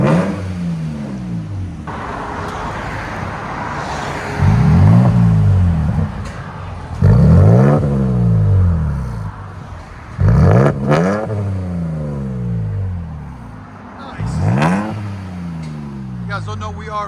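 Exhaust of a 2023 Toyota Tacoma TRD with a 3.5L V6 and Carven TR-Series exhaust, revved repeatedly in loud, sharp bursts that rise and fall over a steady idle, with a voice or two in the background.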